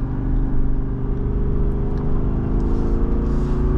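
A Jeep Wrangler Rubicon 392 engine rising in a revving drone on a downshift to third, heard steady and loud from inside the vehicle with a constant low rumble and a whir over it.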